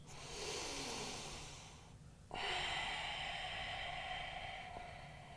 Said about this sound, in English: Breathing in and out of the nose.